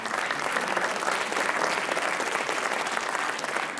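A school writers expo audience gives a steady round of applause, dense and continuous clapping from a crowd at moderate distance, with no talk over it.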